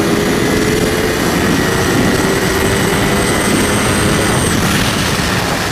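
A Ducati Panigale V4 Speciale motorcycle is ridden at speed, giving a loud, constant engine drone blended with heavy wind rush. It stays steady throughout, with no talking.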